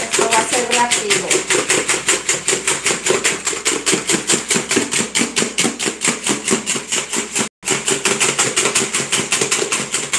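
An electric hand mixer beats batter for a shrimp fritter coating, giving a loud, rapid, steady rattling whir with a brief cut-out near the end, close up.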